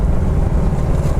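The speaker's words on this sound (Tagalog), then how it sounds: "Ang lakas ng hangin dito sa Coastal Road mga tol." Strong wind on a coastal road roars loud and close in a constant, buffeting rush, with steady blustery noise across the whole short moment and no voices.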